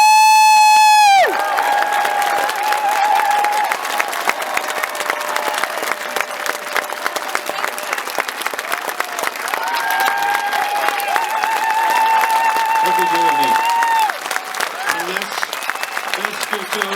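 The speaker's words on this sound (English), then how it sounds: "Let's give Corbyn a big round of applause." A festival crowd applauds Jeremy Corbyn at the Tolpuddle Martyrs' Festival, dense sustained clapping with some cheers that starts after a fading tone and carries on loudly throughout, with a voice speaking over it toward the end.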